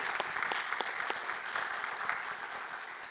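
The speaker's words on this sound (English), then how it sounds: "can we please give a round of applause for them and their funding?" Conference audience at a main stage of a Nostr event applauds steadily, a dense even wash of many hands clapping that holds for a few seconds without letting up.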